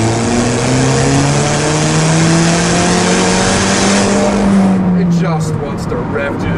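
A 2015 Alfa Romeo 4C engine revs hard and loud, pitch climbing steadily through the gear before dropping off near the end as the car shifts, with a voice talking underneath.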